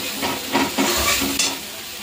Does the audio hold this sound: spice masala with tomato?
yes